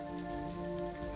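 Quiet, steady monsoon rain patters continuously on a surface, faint and even, over a low constant hum.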